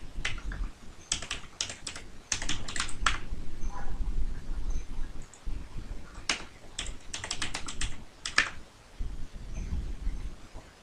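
Fingers typing on a computer keyboard during a basic computer lesson: irregular bursts of sharp key clicks with short pauses between runs, close and fairly loud, with no talking.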